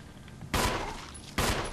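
Two loud gunshots fired at a zombie in Resident Evil HD, the game's blasts spaced under a second apart, each a sharp burst with a short decaying tail over low background ambience.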